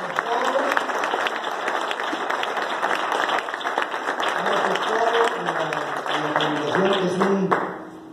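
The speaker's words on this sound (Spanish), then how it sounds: "don Javier Sánchez Campuzano, para quien pido un aplauso." Sustained audience applause at the presentation of a new radio station, dense clapping from a crowd that holds steady for several seconds, with voices mixed in and a brief fade at the end.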